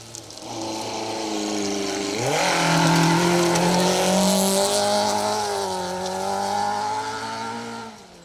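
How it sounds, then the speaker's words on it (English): A Ford Puma rally car's engine revs hard on a rally stage, close and loud, with the pitch climbing sharply around a gear change and then sustaining a high, strained drone before easing off. "Sounds well, does the Puma?"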